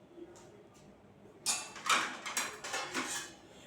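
A lid set over a bowl of bitter gourd pieces, giving a few close, sharp clatters and knocks of cookware in quick succession after a quiet start.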